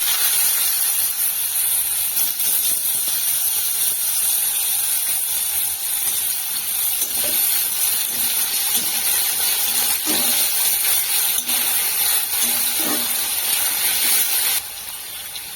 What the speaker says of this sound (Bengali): তেলটা গরম হয়ে গেছে তেলের ওপরে আমি চন্দনী ফোড়ন দেব এবার আমি ধুয়ে রাখা আলুগুলো দিয়ে দেবো